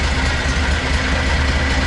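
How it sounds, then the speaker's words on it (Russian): A Borus Extreme machine engine idles steadily at normal revs, giving a continuous, close, even low rumble with a constant hum throughout and no talking. "вот это нормальные обороты двигателя"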